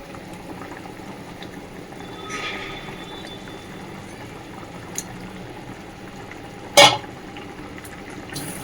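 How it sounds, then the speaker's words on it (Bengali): Bengali fish curry broth simmering in a pot, giving a low, steady bubbling hiss with a faint stir and one sharp clatter near the end. "দেখো আমার মাছের ঝোল ফুটে গেছে"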